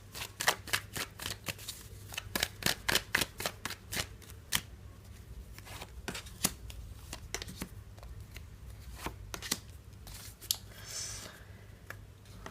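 Tarot cards are shuffled and drawn for a three-card reading, giving repeated sharp riffling snaps and soft slides up close, bunched in bursts and then spaced out, with almost no voice.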